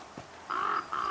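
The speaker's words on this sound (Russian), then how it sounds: "Так, вороны эти кряхтят." Crows caw in the survival video game The Flame in the Flood: a brief low sound, then two drawn-out harsh caws in a row, fairly close and clear over a quiet ambient bed.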